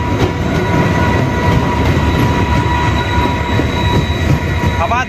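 A moving passenger train fills the scene with a loud, close, continuous rumble and rattle of carriages, with thin wheel squeals rising near the end and no talk.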